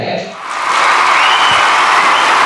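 A large audience at a stage event breaks into applause, rising quickly to dense, loud, sustained clapping with some crowd noise.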